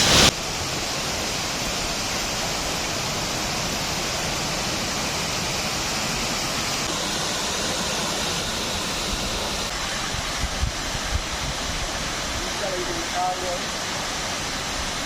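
Talusob Falls, a slide waterfall in Magsaysay, Davao, sends up a steady, loud, broadband rush of falling water that holds constant throughout, with faint voices briefly near the end.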